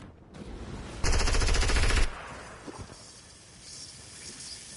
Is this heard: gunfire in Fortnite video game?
yes